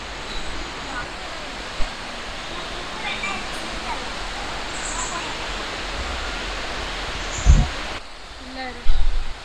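A waterfall near Kukke Subramanya in Coorg roars as a steady, broad rush of falling water, with a few faint knocks and a brief low thump near the end.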